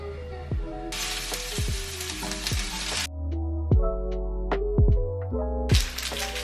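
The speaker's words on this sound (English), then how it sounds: "we're just gonna stir fry it all up." Yellow onion, mushrooms and bell peppers stir-fry in a hot pan, a close sizzle that swells and drops as the food is turned, punctuated by sharp scraping and clacking of the utensil against the pan, with no voices.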